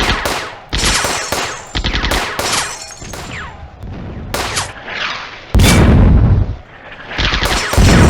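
Dense WW2 battle sounds in a real-time strategy game: rapid bursts of rifle and machine-gun fire, heavy booming mortar and artillery impacts, loud and continuous with brief lulls, no voices.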